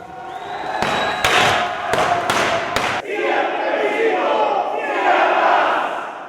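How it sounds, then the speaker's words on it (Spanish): Loud crowd shouting and cheering at a peace rally, punctuated by about six sharp popping bursts of confetti explosions in quick succession, then sustained roaring cheers. "En medio de globos, papel picado y gritos de ¡Viva por la paz!"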